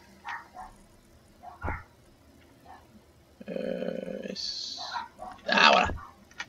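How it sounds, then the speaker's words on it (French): A neighbour's dog barks excitedly in scattered yaps and a longer burst of barking, moderately loud and mixed in with someone talking. "c'est le chien du voisin qui s'excite"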